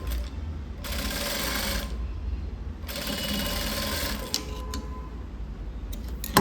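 A sewing machine runs two steady bursts of stitching along the folded edge of a blouse lining, the first about a second long and the second a bit longer, then stops to quiet handling noises.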